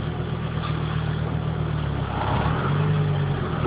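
A Volvo 850 AWD rolling in reverse, its engine a steady low hum and rumble that deepens slightly partway through.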